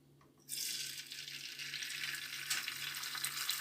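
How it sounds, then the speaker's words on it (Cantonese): An egg hits hot oil in a wok over medium-high heat and bursts into a loud, steady sizzle after a brief quiet moment, crackling on evenly to the end. "用中大火煎。"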